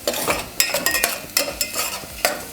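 Tur dal going into a hot cooking pot for sambar, heard as a quick series of sharp scraping, stirring strokes over a light sizzle, close by and with no voices.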